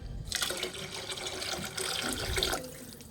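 Water is poured into a pot of rice for cooking, a continuous, close splashing stream lasting about two seconds before it stops.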